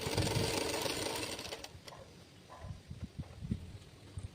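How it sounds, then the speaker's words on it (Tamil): A sewing machine stitches along a folded blouse hem, its mechanical whir loud and steady at first, then easing into a softer run of rhythmic needle thumps toward the end. "தையல் போட்டுக்கோங்க ஓரத்துலேயே"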